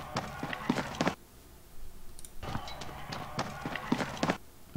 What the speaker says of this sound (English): now we have just the footstep sound that I want to pull out and hear more about